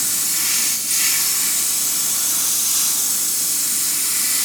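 A spray gun lays 2K clear top-coat over a foiled fishing lure in steady passes, giving a continuous close hiss that briefly dips, with no talking.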